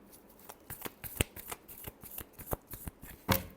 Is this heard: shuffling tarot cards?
yes